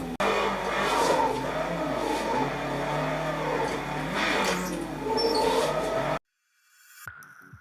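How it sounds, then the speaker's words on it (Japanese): Simulated car engine in the Assetto Corsa racing game, accelerating and drifting on a driving-school course with an S-bend, a steady loud engine drone with rising revs and tire noise for about six seconds before cutting off. "ここから加速しながら、ドリフトに持ち込んで"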